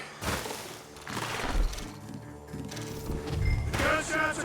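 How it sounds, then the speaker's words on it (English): Gunfire in the Red Dead Redemption 2 game, several sharp shots and bursts scattered across a few seconds amid other game sounds and faint voices. "The gunshots are coming from that barn."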